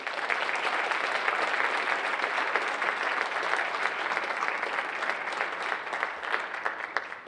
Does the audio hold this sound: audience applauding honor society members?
yes